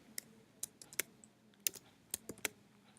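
Computer keyboard being typed on while writing code, a run of sharp, irregular key clicks spaced out across a quiet background, close and clear with no voices.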